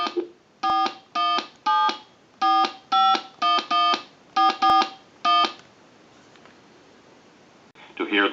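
A Harris TS22 lineman butt set sends a quick series of about a dozen loud dialing tones in rhythmic bursts, then a quiet line hum with a brief click near the end.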